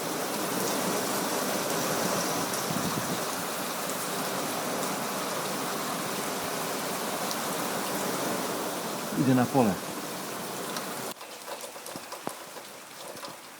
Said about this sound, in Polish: Deszcz jest bardzo mocny i długotrwały.